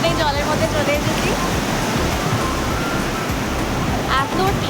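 Sea waves at a beach in Vizag with people in the water: a loud, continuous roar of surf, broad and unbroken, with voices faintly mixed in.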